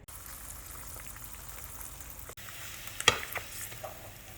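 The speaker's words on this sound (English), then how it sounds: "Next, I'm gonna put my eggs in my pan." Eggs sizzling in a pan for a cheese omelet, a steady crackling fry throughout with a brief clatter and spike of sizzle after a short break, close and moderately loud with no talking.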